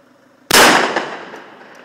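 One loud, close shot from a Glock pistol cracks out sharply and then fades into a long echoing tail, with no further shots following.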